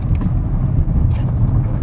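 Volvo V90 Cross Country driven flat out with the throttle floored, a steady close engine and road roar holding even loudness throughout with no pauses.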